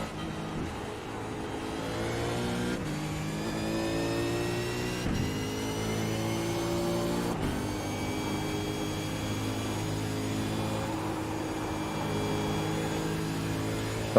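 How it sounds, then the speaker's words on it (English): Car engine in a Supercars racing game at Watkins Glen, a steady whining drone with harmonic rises as the car accelerates through gears, two sharp shifts cutting the pitch, with no voices. "There's a car approaching."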